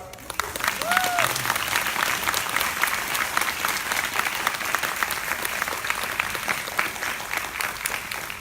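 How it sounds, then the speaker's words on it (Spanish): Steady, sustained audience applause at a talk on state violence and revolution in El Salvador, dense clapping filling the room throughout with a brief voice near the start. "Un fuerte aplauso."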